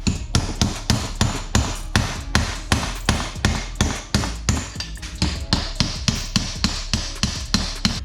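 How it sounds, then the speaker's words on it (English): An air hammer hits hard on a U-joint cap on a 4th-gen Toyota 4Runner 2WD, striking in a steady run of loud, close metallic blows, about two per second, with no talking. "I had to revert to the air hammer here"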